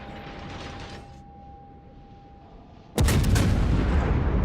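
Naval guns fire in a warship video game: a quiet stretch of low ambient rumble with a faint tone, then one sudden, loud, booming salvo that hangs on with a long rolling tail.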